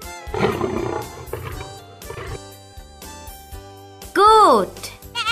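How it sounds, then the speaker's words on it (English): A tiger roar, loud and close, rises and falls in a sweeping, strained tone near the end, after stretches of busy music with a voice over it. "Tiger."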